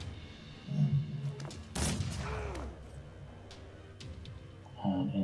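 Gunshot in Mordheim: City of the Damned, one sharp broadband crack near the middle standing out against a low rumbling game background, with faint thuds around it.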